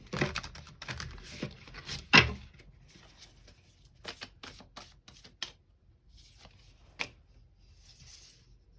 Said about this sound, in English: We'll shuffle again.